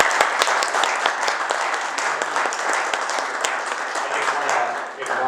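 Steady round of audience applause at a state political nominating convention, moderately loud and continuous. Scattered voices sit beneath the clapping, which eases slightly near the end.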